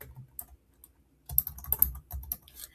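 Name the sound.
typing on a computer keyboard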